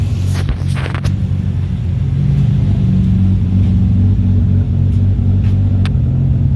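A Toyota Supra engine idling steadily with a deep, continuous low rumble, loud and close, its RPM being set through the idle air control valve, with a few light mechanical ticks over the drone.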